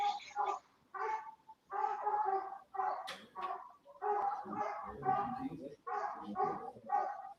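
Hunting dogs barking at a treed animal during a coonhound competition hunt, repeated loud bawling barks in irregular bursts with short pauses, fairly close and carrying in the open.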